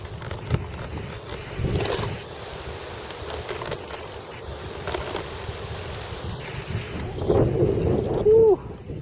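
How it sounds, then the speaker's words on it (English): Strong gusts buffet the microphone at an outdoor model-airplane flying field, a continuous low roar and rumble that swells in bursts throughout. "Boy, that's some wind."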